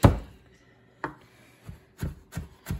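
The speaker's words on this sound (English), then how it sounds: "we're going to cut up our garlic for our broccoli salad" A knife chops garlic cloves for a broccoli salad on a cutting board: one sharp close thwack, a pause, then a quick run of four lighter chops, with no talking.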